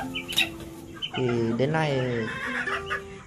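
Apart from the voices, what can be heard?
bantam chicken clucking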